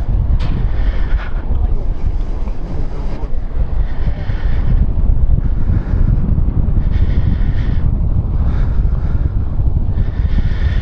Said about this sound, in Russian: Вот ветер, видите, то, о чем я вам говорил, здесь ветер большой.